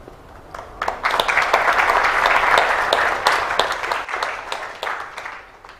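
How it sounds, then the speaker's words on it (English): An audience claps at a live talk about AI beyond ChatGPT. The clapping starts with scattered claps, swells into full, steady applause and then tapers off with a few lingering claps. "Can we give him another round of applause?"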